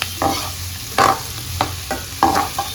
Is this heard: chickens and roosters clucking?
no